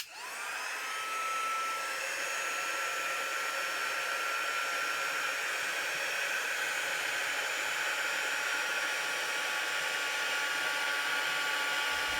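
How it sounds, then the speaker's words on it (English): A heat gun blows over a stamped Christmas-scene tote bag, starting abruptly and then holding a loud, steady whirring roar with a faint motor whine throughout, close by and without speech. "I'm going to put my heat gun on it."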